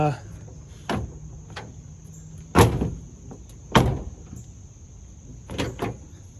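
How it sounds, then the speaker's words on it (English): A door on a Range Rover Classic two-door under restoration slams repeatedly with its latch failing to catch: four or five sharp metallic thuds at irregular intervals, close and loud, over a faint steady insect-like chirp in the background. "Oh, now my latch doesn't want to latch."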